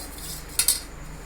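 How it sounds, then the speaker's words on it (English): A spoon clinks twice against a bowl while mixing curd, quick metallic taps over a faint steady background hiss. "We have to mix this curd very nicely."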